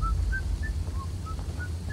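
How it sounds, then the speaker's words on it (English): A person whistles a series of short, thin, evenly spaced high notes, about seven brief pips over a low steady background hum, fairly faint and with no talking. "Why are you just sitting there whistling, buddy?"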